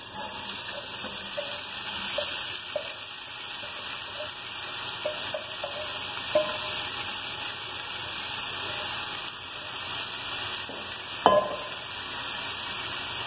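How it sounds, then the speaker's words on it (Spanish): Chopped garlic and mixed vegetables sauté in hot oil with a soft, continuous sizzle, broken by scattered light clicks of stirring, and no talking. "Lo único que tenemos que hacer es comenzar a sofreír."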